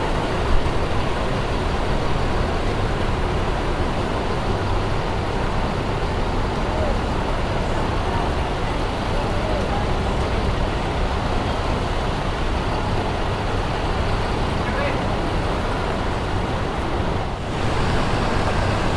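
A Hino RK Z260 bus with a Laksana body rumbles in road traffic, a loud, steady engine and roadway roar with wind-like hiss that holds constant for the whole stretch.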